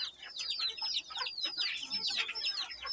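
A young rooster clucks in a close, continuous run of short bursts, several birds' calls overlapping steadily among heritage and native chickens, with no talk.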